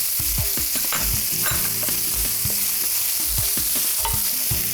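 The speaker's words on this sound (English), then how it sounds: "As soon as they start to splatter, add the chopped onion." Chopped onion fries in hot spattering oil for a South Indian pongal dish, making a loud, dense, unbroken sizzle up close with soft low knocks and clatters underneath.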